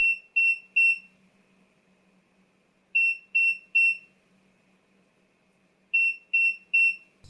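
A portable power station at low battery sounds a high electronic beeping alarm, three quick beeps repeated in evenly spaced groups about every three seconds over near silence.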